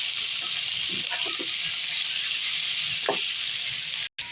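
Chicken for adobo fries in a hot pan, a constant loud sizzle and crackle with a few brief stirring scrapes and knocks, close by and without talk.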